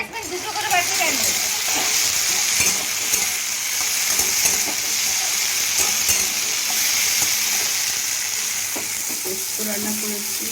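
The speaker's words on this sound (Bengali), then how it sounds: "আর এখানে হচ্ছে রাঙা আলু ভাজা আর ঢ্যাঁড়স ভাজছি।" Sweet potato and okra fry together in oil, giving a loud, steady, close sizzle and hiss with faint stirring scrapes throughout.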